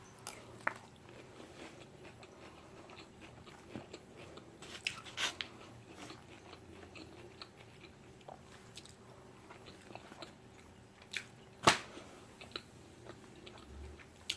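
Someone chews crunchy raw cabbage with Hawaiian BBQ during a mukbang. The crisp bites and crunches are sparse and close, spread over a quiet background, with one sharper crunch near the end and no voices.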